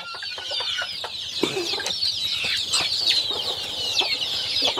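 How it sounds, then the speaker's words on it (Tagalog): Hens cluck softly and continuously while one-week-old chicks peep in a high, busy chorus, close up with no talking. "binigyan din natin yung mga inahin na may mga sisiw na 1 week old"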